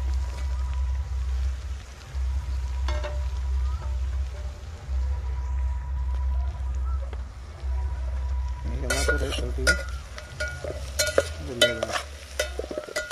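Onions frying and being stirred in a pan for a mutton curry, a low steady sizzle under a deep hum, then a burst of loud scraping and clattering stirs near the end, close up, with no talking.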